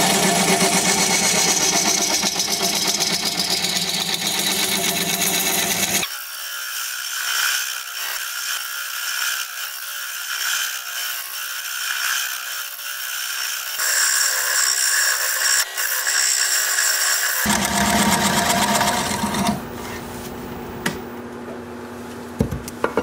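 A wood lathe spinning a rough, square root ball, a loud steady whirring drone with a heavy low rumble that drops out partway through and later returns, leaving a thinner high-pitched whine in between.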